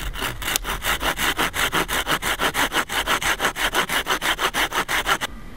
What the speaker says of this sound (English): I'm going to saw it a little bit longer than I normally would have it.